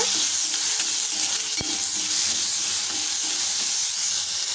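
Cut medium-size tomatoes sizzle steadily as they fry in a pan, with a stirring scrape partway through, a continuous close hiss and no voices.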